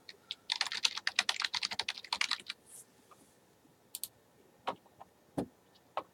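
Rapid clicking on a computer keyboard as a password is typed, a quick burst of close keystrokes followed by a few isolated, sharper key presses spaced apart in a quiet room.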